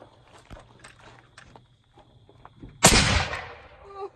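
A single sharp blast from a shouldered firearm fired outdoors, loud and close, ringing out after a stretch of quiet rustling and shuffling.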